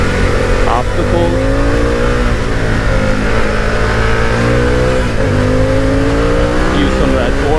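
A motorcycle engine revs loud and close while riding, rising in repeated upward sweeps as the rider accelerates through curves, with a voice talking over the engine noise.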